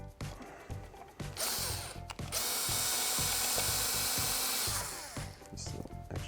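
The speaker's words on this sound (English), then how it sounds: "Simply take our drill," A cordless power drill drives screws to fasten a Leviton GFCI outlet box in a wall, whirring loudly and steadily for several seconds between short bursts and clicks, with no talking.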